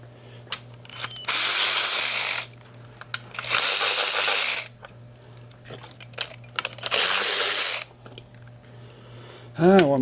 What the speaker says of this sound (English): Gotta get all these valve cover bolts out.